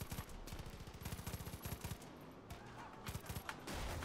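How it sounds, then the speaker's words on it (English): Sustained gunfire from the video game Far Cry 5, with rapid automatic bursts repeating steadily across the whole stretch, moderately loud and close, amid a busy background of combat noise. "Who the bloody hell is shooting at me?"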